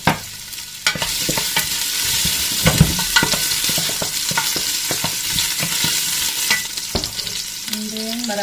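Plenty of fresh ginger sautéing in a hot pan, a steady loud sizzle broken by repeated scrapes and clanks of a spatula stirring, with no voices.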